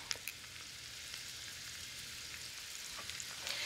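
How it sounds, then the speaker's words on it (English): Thinly sliced vegetables fry in hot oil in a pot, giving a faint, steady hiss and crackle with a few small pops, close by and with no voices. "I'm going to move my vegetables over into the pot"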